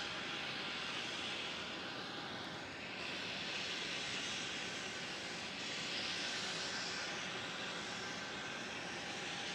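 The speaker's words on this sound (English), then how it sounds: "320 Neo is coming in from Perth." An Airbus A320neo airliner arriving from Perth approaches Melbourne Airport. Its jet engines give a steady, distant roar that swells slightly and holds through the whole stretch, with no speech.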